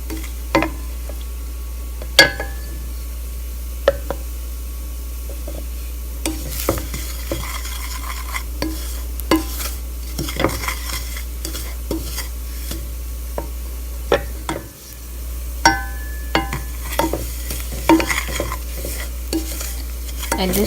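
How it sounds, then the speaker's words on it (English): Semolina (suji) roasts in a pan over medium heat while being stirred, giving repeated scraping and tapping strokes over a soft sizzle, close and steady throughout with no talk. "So we are going to cook the suji till slight pink and keep moving it around"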